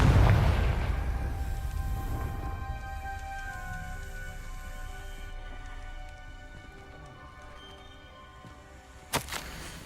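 Confringo blasting spell in Hogwarts Legacy: a loud burst that decays into a long rumbling, ringing tail over ambient hiss, with a sharp small crack near the end.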